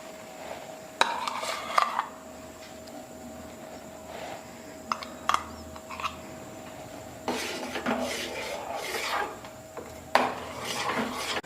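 A metal spoon clinks and scrapes against a vessel while ground almond and cashew paste goes into milk: scattered sharp taps and stirring clatter, bunched more densely toward the end, over a steady kitchen hum.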